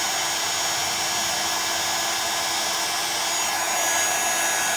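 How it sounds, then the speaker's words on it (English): A craft heat tool set to its second setting blows a steady, even whoosh of hot air, close and constant with no breaks, as embossing powder is melted. "so I'm going to put my heat tool onto setting number 2, let it heat up, and then I'll start melting my powder."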